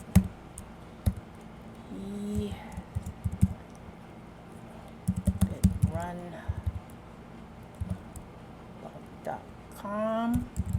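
Keys tapped on a computer keyboard while a URL is entered into a sitemap form, coming in short irregular bursts of clicks under and between a person's talking.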